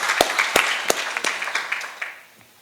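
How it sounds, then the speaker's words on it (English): Audience applause at an Africa regional committee conference in Kampala, Uganda: a burst of sharp, scattered claps from a room of delegates that thins out and fades over a few seconds. "Please, let's give a round of applause to Richard."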